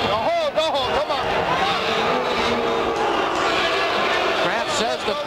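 Arena crowd booing and roaring throughout a 1994 Toughman boxing match at Cobo Arena in Detroit, a loud continuous wall of voices with a commentator talking over it.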